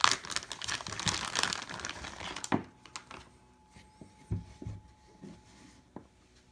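Crinkling of a Ziploc plastic bag, a dense rustle for the first two and a half seconds, then sparse scattered crackles and soft rustles, close and fairly quiet.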